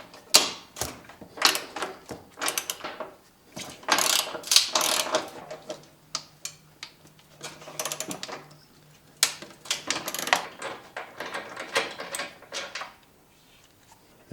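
A hand ratchet loosens the bolts behind the grille edge of a Jeep with a 4.0L engine, making repeated close, loud bursts of rapid clicking with short pauses between them and no talk.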